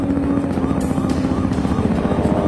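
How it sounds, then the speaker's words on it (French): A helicopter in an X-Files episode (season 6, episode 2) drones loudly with a steady rotor beat, accompanied by a few sharp clicks. "Un vrai hélicoptère"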